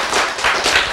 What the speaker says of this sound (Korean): 박수 크게 치세요